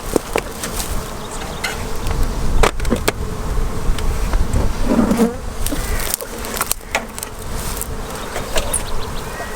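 Honey bees swarm and buzz around an open hive beside a field of flowering oilseed rape, a steady close hum with passing individual wingbeats and a few soft knocks and rustles of hive handling.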